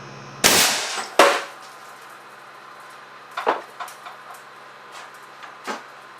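An air cannon pressurized to 325 psi fires twice at a bathroom sink, two sharp loud cracks close together, then quieter knocks and clatter of debris settling.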